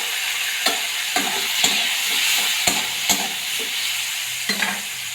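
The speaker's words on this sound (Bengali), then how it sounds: "এবার এটা ভালো করে ভাজা ভাজা হয়ে যায়" Food fries with a constant close-up sizzle while a utensil scrapes and taps against the pan every second or so.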